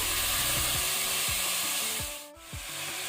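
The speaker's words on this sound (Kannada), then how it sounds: "ಈಗ ನಾವು ಮೀಡಿಯಂ ಟು ಹೈ ಫ್ಲೇಮಲ್ಲಿ 5 ಮಿನಿಟ್ ಇದನ್ನು ನಾವು ಫ್ರೈ ಮಾಡುವ" Mutton frying in ginger garlic paste over medium-high flame, a loud, close, steady sizzle broken by repeated scraping strokes of a spoon through the pan, with a brief dip near the end.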